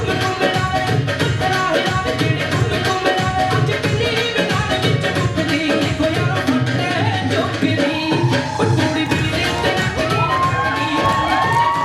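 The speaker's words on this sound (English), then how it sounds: "so warm applause there" Audience at a North Surrey talent show roars after a singing and ukulele act, loud sustained cheering, whoops and shouting mixed with clapping, dense and close throughout.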